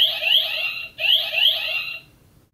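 A shrill electronic alarm tone from an Ultraman X Xdevizer toy warbles in two bursts, loud and close, then cuts off abruptly with a brief fading tail.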